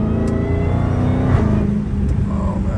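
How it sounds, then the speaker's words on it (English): A Dodge Challenger Hellcat Redeye's exhaust drones loud and near, the engine revving with a steady deep rumble and a brief swell midway. "the exhaust is amazing, like, so amazing, but I need to make it way louder to enjoy"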